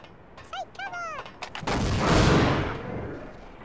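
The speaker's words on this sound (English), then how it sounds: "Did you just shoot 10 grenades?" In Half-Life Sven Co-op, a burst of grenades fired after a few short synthetic chirps, followed by a rushing, rumbling volley of launches and blasts that swells and then tails off.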